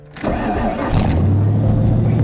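A small engine with a newly installed carburetor cranks and catches, then settles into a loud, steady close-up idle.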